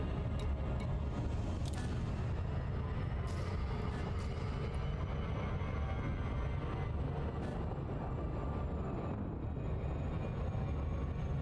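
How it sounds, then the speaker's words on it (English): A spaceship in the video game Elite Dangerous makes a hyperspace jump: a dense, steady, roaring rumble holds at full strength for about eleven seconds, with brief hissing flares above it. "Hyperspace."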